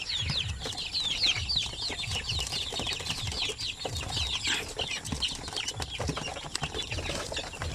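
A flock of one-month-old shamo aseel chicks peeps and clucks busily while being fed, a dense continuous chorus of high chirps with some low pecking and movement sounds.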